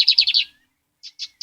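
Bigode espoleta bird singing, a quick burst of four bright chirps followed after a short pause by two more, close and clear against silence.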